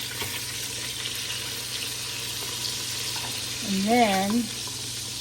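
Meatballs frying in a pan give a steady, loud sizzle that fills the whole stretch, with a brief voice speaking partway through.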